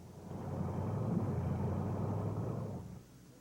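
A military four-wheel-drive truck labors through deep blizzard snow, its engine giving a steady low rumble that holds for nearly three seconds before easing off, heard alone at moderate distance.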